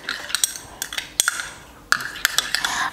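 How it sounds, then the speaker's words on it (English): A spoon clinks and scrapes against a bowl while egg white mixture is stirred, with sharp irregular taps and scraping strokes, close and clear with no voices. "After adding the egg white, I'll just go ahead and stir this all up very well."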